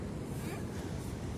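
Sea waves roll onto a Turkish beach in February as a steady, close wash of surf mixed with wind buffeting the microphone, continuous and fairly loud throughout the short stretch.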